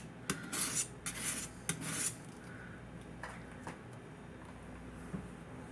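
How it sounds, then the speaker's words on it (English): Large thrift-shop kitchen knife drawn across a fine 400-grit sharpening stone, a few close raspy strokes in the first two seconds, then fainter scattered scrapes over a quiet background. "This is a fairly fine sharpening stone."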